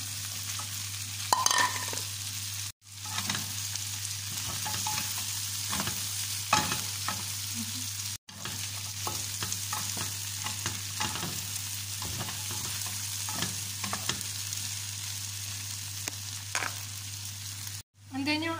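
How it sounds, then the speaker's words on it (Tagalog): Cauliflower and mixed vegetables frying in a pan, a constant sizzle with scraping stirs and clatter from a utensil, close and steady, broken by brief pauses. "Haluin lang natin. Yung ating cauliflower."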